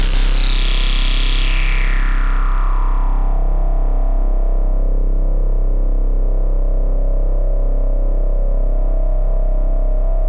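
A synthesizer tone runs through a filter with its resonance raised, opening with a bright, sweeping whistle that settles into a sustained, buzzy, heavily resonant drone.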